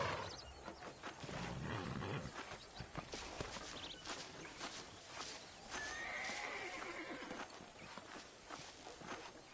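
Horse neighing and hoofbeats in the Red Dead Redemption video game: a loud, dense mix of clopping hooves and whinnies with rough outdoor ambience that stays busy for the whole stretch.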